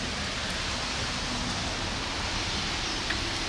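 Steady rain falling outdoors, a dense even hiss with no breaks, moderately soft and constant throughout.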